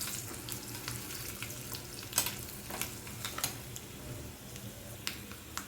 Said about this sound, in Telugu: పోపు అంతా వేగుతుంది.